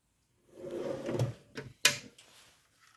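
A home toolbox drawer slides open with a rolling rumble, then shuts with a sharp clack followed by a faint rattle; the sounds are close and come alone, with no voices.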